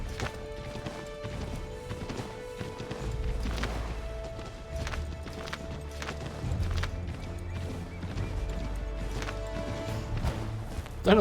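A horse gallops in the video game Assassin's Creed III, rhythmic hoof clip-clops and heavy thuds mixed with game ambience and scattered impacts, running steadily for about ten seconds.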